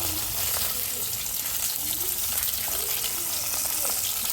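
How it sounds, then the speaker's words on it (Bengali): Fish frying in a pan in a village kitchen gives a steady, continuous sizzle and crackle of hot oil throughout, fairly loud and even. "মাছ ভাজিটা হয়ে গেছে"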